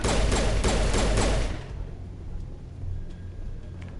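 Rapid gunfire in the Mass Effect video game, a loud burst of repeated shots for about a second and a half, then quieter rumbling ambience with a few faint distant pops.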